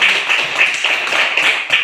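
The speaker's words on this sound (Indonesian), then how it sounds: "Tepuk tangan buat kita semua." A classroom of pupils clapping hands together in a short, steady burst of rapid claps, fairly loud and close, with no talking over it.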